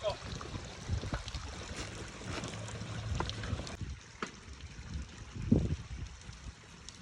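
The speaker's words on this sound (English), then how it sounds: "So we built this fountain, a stacked slate urn is what we call those." Water trickles and splashes softly from a stacked slate urn fountain in a backyard with a sitting area and fire pit, a quiet steady flow with faint background noise.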